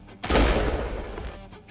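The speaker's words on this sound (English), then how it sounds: "A gunshot." A heavy gunshot sound effect booms out, loud and close, followed by a rumbling, crackling tail that lingers and fades unevenly.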